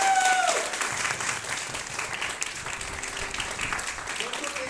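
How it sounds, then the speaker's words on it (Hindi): A crowd at a business opportunity event claps for a speaker, a dense, moderately loud applause that holds steady for a few seconds while talk runs underneath. "मिलन सर के लिए जोरदार ताली दीजिए"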